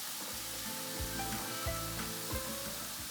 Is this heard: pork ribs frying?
yes